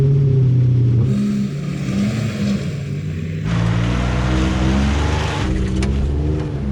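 A Ford Transit van's engine strains and revs hard during a tug-of-war against an F-150 Raptor, a loud sustained drone that shifts pitch midway, then drops and sags as the engine stalls.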